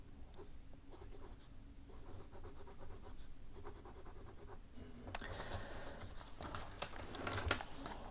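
A Pilot Kakuno fountain pen scratches across paper in short, faint strokes with small pauses, then writes faster and a little louder toward the end, close and quiet with no talking.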